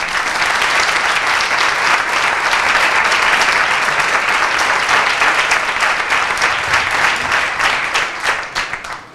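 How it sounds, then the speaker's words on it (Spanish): A crowd at a campaign presentation for an independent slate in Nerva's 2023 municipal elections breaks into loud, sustained applause, a thick wash of clapping that continues for about nine seconds before tapering near the end. "Un aplauso que llegue hasta allí y él lo escuche,"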